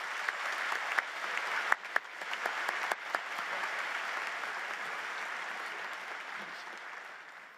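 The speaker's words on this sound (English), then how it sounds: "Please give a round of applause to these university leaders." A commencement audience at Auburn University gives sustained applause for university leaders, a broad, even wash of many hands clapping with a few sharper individual claps standing out early, slowly fading toward the end.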